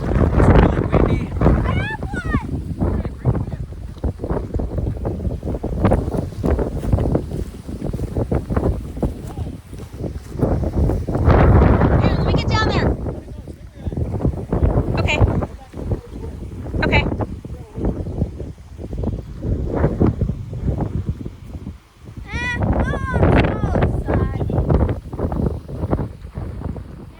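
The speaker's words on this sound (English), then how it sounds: "It's really windy." Strong gusts of wind buffet the microphone on a lake during fishing, a continuous loud rumbling roar that swells and dips throughout, with occasional voices and small splashes partly buried beneath it.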